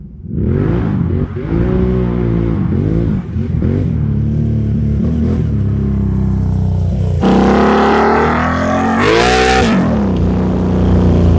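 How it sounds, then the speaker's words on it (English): A Can-Am Outlander 800 ATV fitted with bigger tires drives around a yard. Its engine stays close and loud, revving up and down in repeated surges, then climbs to a sharper, higher-pitched rev near the end. No one talks. "Let's take it for a spin around the yard and see if it's going to eat them fenders up or not."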